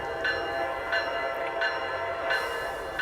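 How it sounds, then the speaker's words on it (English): A train in the RO-Scale Eastern Railways video game rings its bell in an even, repeating pattern of chimes about every 0.7 seconds, with a steady rumble underneath. "turn on the bells and horn"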